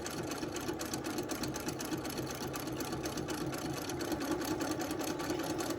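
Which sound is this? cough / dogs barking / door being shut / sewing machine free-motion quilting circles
sewing machine free-motion quilting circles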